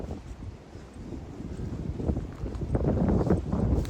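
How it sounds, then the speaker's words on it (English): Strong wind gusting at 40 to 45 miles per hour on an exposed hiking trail, buffeting the microphone with a steady low rumble that swells louder in the second half, with no voices. "I'm really not sure if you can hear that wind."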